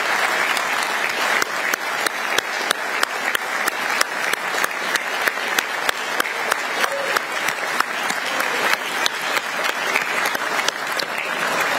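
Sustained applause in Paraguay's National Congress welcoming the women's beach volleyball team, a loud, dense roar of many hands clapping for about twelve seconds, with sharp rhythmic claps punctuating it at regular intervals.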